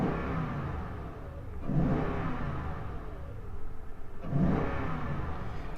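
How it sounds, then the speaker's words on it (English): A 2018 Toyota Tundra TRD pickup engine with an aftermarket air intake revs up twice from a steady idle, rising then falling in deep, throaty surges, close and continuous. "I'm going to rev it up a little bit."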